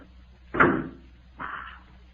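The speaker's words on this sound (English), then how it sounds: "Wait till I close this door." A door swings and shuts with a solid thud, followed a moment later by a softer second knock or latch sound, close by with no talking.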